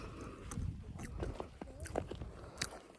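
Close chewing of a bite of salty, creamy sheep or cow cheese, with soft crunches and wet mouth sounds in an irregular rhythm, quiet and without talking.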